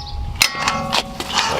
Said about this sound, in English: use my jack handle as an extension so that I can have more leverage on it. So you go ahead and break these loose